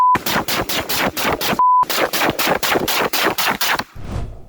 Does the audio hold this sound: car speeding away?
no